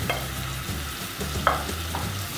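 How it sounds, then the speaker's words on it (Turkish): Minced meat fries in melted butter in a pan, a steady close sizzle with repeated scraping stirs and one sharp utensil knock. "Tereyağlarım eridi. Hemen kıymamı koyuyorum."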